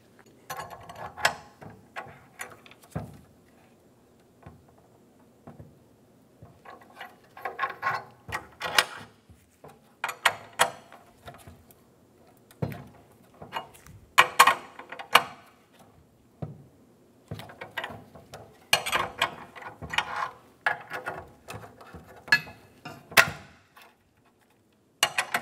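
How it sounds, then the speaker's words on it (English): A ratchet works on an exhaust manifold stud of a 2007–2012 Nissan Altima, giving sharp, irregular metallic clicks and clacks in scattered clusters, close and moderately loud, with quiet gaps between bursts. "put two nuts against each other on it and then tighten"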